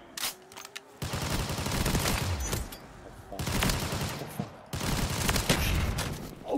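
Gunfire in Black Ops 3 Zombies mode, heavy sustained automatic bursts in three long stretches with brief pauses between, loud and dense against background game noise.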